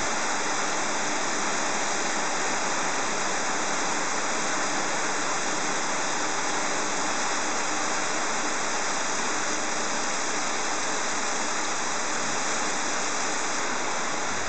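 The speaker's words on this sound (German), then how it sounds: "Also so ein richtiger Regenschauer." Heavy tropical downpour in a Central American rainforest, a dense, even hiss of rain pouring down continuously with no pauses, steady and enveloping, with no voices.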